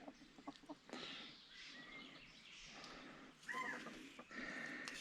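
Chickens cluck and squawk nearby on a rural New Zealand property, in faint scattered calls with a louder burst near the end over low background noise.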